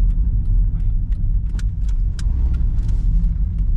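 A car reverses slowly during a house move, its low engine rumble steady and close throughout, with faint clinks and brief rattles over the continuous drone.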